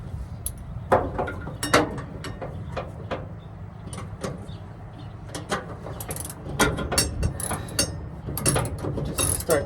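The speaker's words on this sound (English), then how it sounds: "Just start tightening it up." Repeated ratchet clicks from a wrench tightening a bolt on a Belltech drop kit for an 88-98 Chevy truck, coming in uneven bursts of quick close clicking over low background rumble.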